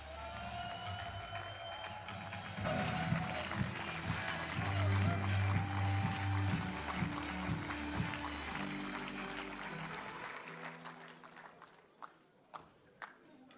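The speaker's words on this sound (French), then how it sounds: "Pareil, je vous demande des applaudissements." Audience applause at a French farmers' union (FNSEA) rally, welcoming union president Arnaud Rousseau: a sustained, dense wash of clapping with music underneath, fading out after about ten seconds into a few isolated knocks.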